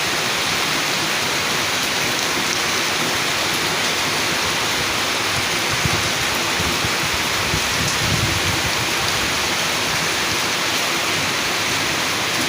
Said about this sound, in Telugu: భీమవరంలో అయితే వర్షం దంచి పడుతుంది.